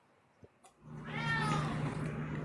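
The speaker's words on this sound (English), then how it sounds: "You guys can probably hear the cat." A house cat meows once, drawn out and wavering, loud and close after a brief quiet lead-in, with no talk over it.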